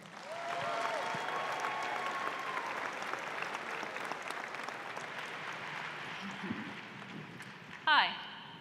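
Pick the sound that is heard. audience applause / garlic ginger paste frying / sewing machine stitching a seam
audience applause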